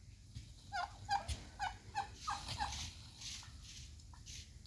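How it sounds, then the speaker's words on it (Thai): A rapid series of American Bronze turkey gobbles, quick rattling bursts in a rhythmic run, fairly near against a quiet background. "ไก่งวงนะครับ"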